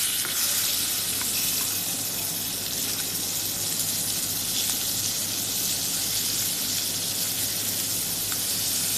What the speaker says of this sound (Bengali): মাছগুলো আস্তে আস্তে ভাজা হচ্ছে